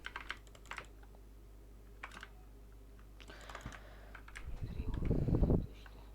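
Computer keyboard typing while playing Rocket League: scattered soft key clicks, fairly faint, followed by a louder burst of rapid clattering keystrokes near the end, with no talk.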